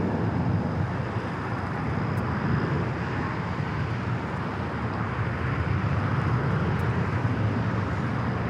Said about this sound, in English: Delta Airlines 465 taking off to Honolulu on the 767-300ER